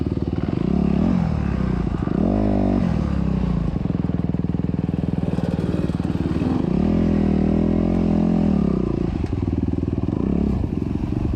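A 2021 Honda CRF250RX dirt bike racing on a trail, its engine droning loud and close throughout, with repeated rises and falls in revs as it accelerates and backs off over rough ground, with some clatter.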